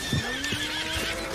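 A horse in the video game Red Dead Redemption 2 lets out a clear whinny, heard up close, with a few soft hoof thuds underneath.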